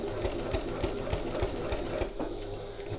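Sewing machine running steadily as it stitches along folded fabric edges for a satchel, a continuous close whirring with rapid regular needle thumps throughout, no talk.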